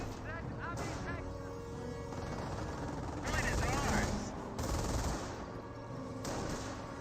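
Bursts of machine-gun fire from an infantry half-track in the WWII strategy game Company of Heroes, with rattling volleys heard over the game's battle noise while a commentator talks over the action.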